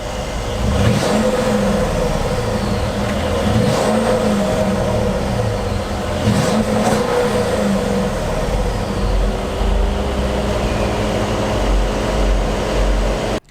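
A 2017 Mercedes-Benz GLS550 SUV engine revs repeatedly, the pitch climbing and dropping in several rises over a steady loud rumble, close by and with no talking.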